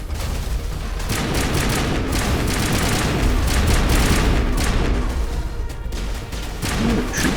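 Enemy gunfire in the video game Mass Effect: a dense, continuous barrage of overlapping shots and blasts that stays loud and steady throughout, with no pauses between volleys.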